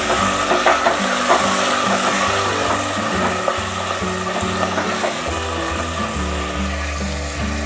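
Salted mutton korma sizzles steadily in a pan while it is stirred, with scraping and clattering stir strokes over a dense frying hiss and background music running throughout.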